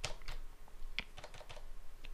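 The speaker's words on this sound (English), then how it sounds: "so we gotta type in the seed" Fingers tapping out a world seed on a computer keyboard, a quick uneven run of light, crisp key clicks up close, quiet in between.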